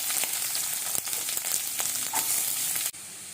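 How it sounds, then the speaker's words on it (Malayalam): Chopped onion sizzles in a hot pan while rava upma is being made, a close, steady crackle of frying with a few sharp stirring knocks and a quieter tail. "ഇനി ഇതിലേക്ക് നമ്മൾക്ക് ഒരു സവാള നുറുക്കിയത് ഇട്ട് കൊടുക്കാം"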